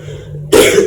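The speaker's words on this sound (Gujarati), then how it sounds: "થોડીક ઉધરા જેવું થઈ ગયું" One abrupt, harsh cough from someone with a cold breaks a quiet, low hum halfway through. It is close and loud, then trails off quickly.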